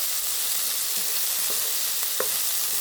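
Ivy gourd slices stir-fry in a hot pan, a steady close sizzle and crackle with a few sharper spits and pops scattered through.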